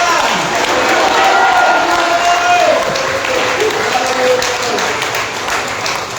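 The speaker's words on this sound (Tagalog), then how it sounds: "Kaya yung magandang umaga, pumalakpak ng malakas." A worship service congregation claps loudly in a sustained, dense wave of applause, with voices cheering and calling out underneath.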